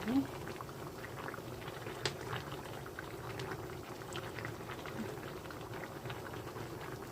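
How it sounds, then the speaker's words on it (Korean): Plain tofu and pollock roe simmer in a pan with cooking oil and water, a continuous soft bubbling and crackling that holds steady throughout while someone talks quietly over it. "조리고 있습니다"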